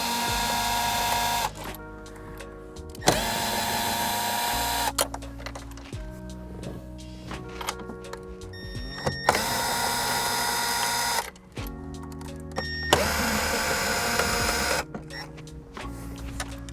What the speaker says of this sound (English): We have a little handy power tool here.